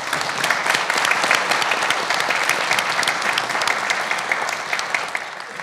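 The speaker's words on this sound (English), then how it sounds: "let's give Peyton a round of applause" An audience at a youth entrepreneurship competition applauds a student presenter, a steady, loud patter of many hands that continues evenly throughout without speech.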